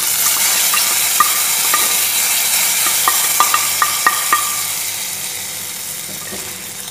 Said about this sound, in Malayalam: നമുക്ക് വറവ് ഇട്ട് കൊടുക്കാം.